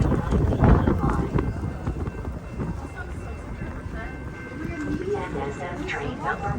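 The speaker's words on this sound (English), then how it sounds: "1268 to Chicago Union Station is now arriving." A Metra BNSF commuter train arrives at a Chicago-area station in snowy cold, with rumbling and rhythmic clacking of wheels over the rails beneath a loud voice announcement.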